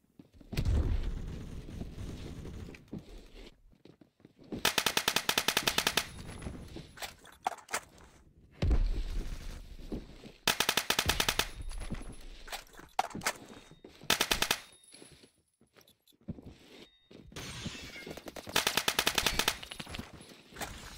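Rapid automatic gunfire from a gun in Phantom Forces on the Metro map comes in several loud bursts of a second or two, separated by footsteps and quieter game ambience, with no talking.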